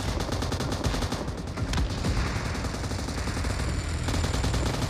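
Dense automatic gunfire from PUBG Mobile's Rage Gear team deathmatch mode, with rapid bursts overlapping steadily and loudly through the whole stretch, no voices.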